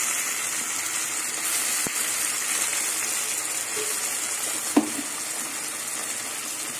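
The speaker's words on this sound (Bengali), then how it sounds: "পেঁয়াজটাকে লাল করে ভেজে নেব।" Onion and tomato frying in oil for a spicy silver carp fish curry, a steady close sizzling hiss with a couple of faint knocks.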